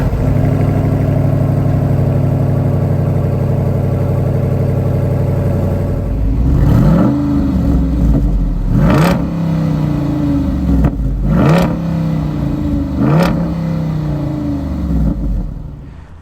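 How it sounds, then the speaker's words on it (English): The 6.4-litre V8 of a 2021 Jeep Wrangler Rubicon 392 idles with a steady rumble, then revs sharply three or four times, each blip rising and falling back to a throbbing idle, close and loud. "this engine is just such a legendary engine and makes such exciting sounds."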